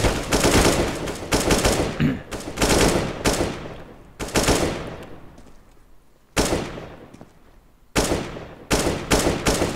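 Loud automatic gunfire from a CS:GO match at a 2017 community cup tournament, arriving in repeated sharp bursts separated by short pauses across the whole stretch.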